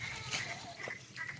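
A herd of goats offered for sale, with a faint bleat or two against steady background noise; no clear talk.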